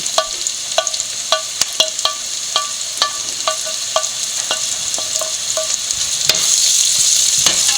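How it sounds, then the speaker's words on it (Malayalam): Onion, ginger and garlic sautéing in a pan for sardine curry, a steady close sizzle under a regular rhythm of sharp spatula taps and scrapes against the pan, the hiss swelling near the end. "ഇനി നമുക്ക് ഈ ഇഞ്ചിയും വെളുത്തുള്ളിയും കൂടെ ഇട്ട് കൊടുക്കാം"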